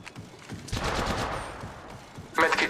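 Sustained automatic gunfire from an Apex Legends Mobile match rattles in a dense burst, then trails off before another sharp volley near the end, with game voice lines mixed in.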